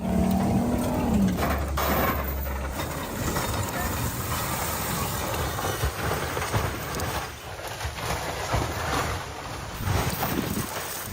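The world's first automobile being driven on a test drive: a rough, uneven engine and road rumble with wind buffeting the microphone, steady throughout with occasional surges.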